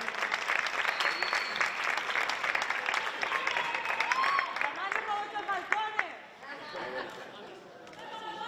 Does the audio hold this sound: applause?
yes